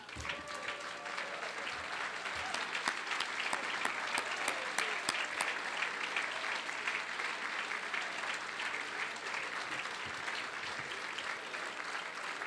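An audience at a scouting awards dinner applauding standing Gold Award recipients, sustained, even clapping from a full room that continues steadily throughout, moderately distant with a faint crowd murmur.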